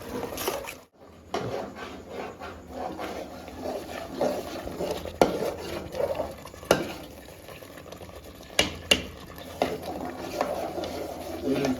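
A spoon keeps stirring and scraping thick almond halwa as it releases ghee in a pan, with soft, uneven scrapes, light bubbling and a few sharp knocks against the pan, all close and under occasional talk.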